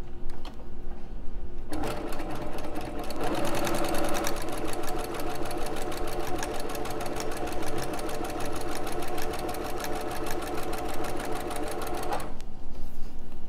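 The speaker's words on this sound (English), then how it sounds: "I'm going to chain piece by putting the next one under the presser foot without lifting up" A sewing machine chain pieces quilt half-square triangles, running in a fast, steady mechanical stitching rhythm for about ten seconds after a quiet start, close and clear, then stopping near the end.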